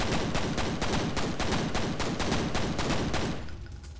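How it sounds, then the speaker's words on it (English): Rapid automatic gunfire from the video game FEAR: Extraction Point rattles in a fast, even burst of repeated shots lasting several seconds, then tapers off near the end. "I'm guessing I just have to shoot Mum."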